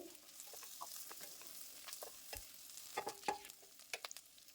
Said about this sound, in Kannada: ಇವನ್ನು ಎಣ್ಣೆಯಲ್ಲಿ ಫ್ರೈ ಮಾಡ್ಕೊಳ್ಬೇಕು